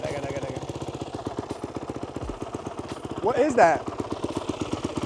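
A turbocharged BMW B58 engine runs with a rapid, choppy, pulsing rumble, steady and close throughout. Someone speaks briefly over it.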